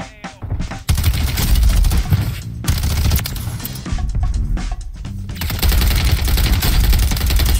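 Loud bursts of automatic gunfire from a low-recoil gun in a video game crackle in rapid, repeated volleys with brief gaps between them, continuing throughout without any talking.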